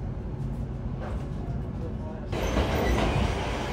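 A passenger train car rolls along the Chisinau to Iasi line in Moldova, producing a steady rumble and rattle inside the carriage that grows louder partway through, with no talk over it.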